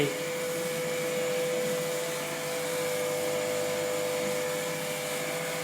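An AGFA Avantra 30 film imagesetter in a film output room runs with a steady, loud whirring hum and high mechanical whine. The sound holds unchanged throughout, with no voices.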